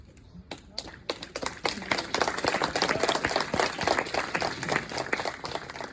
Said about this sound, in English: thank you so much, guys, for clapping hands for me